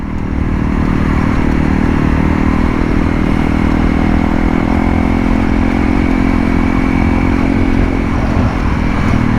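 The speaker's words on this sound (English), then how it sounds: "it's nice to be back on the bike in the Philippines" Honda CRF 300L motorcycle ridden on a road in the Philippines, its engine droning loud and steady throughout with a dense rumble and continuous wind noise, no talk.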